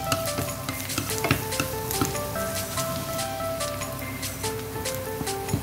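Onion and garlic sauté in a pan for tofu escabeche, a steady crackling sizzle broken by frequent scraping stir strokes and light utensil clicks against the pan, close by with no talking.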